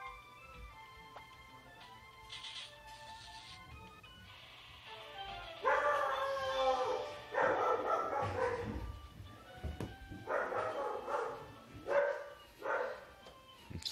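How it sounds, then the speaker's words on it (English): A neighbor's dog barks loudly in repeated bursts and yips, following a quieter stretch of high-pitched tones, with the barking coming in irregular clusters close by. "neighbor's dog being super loud"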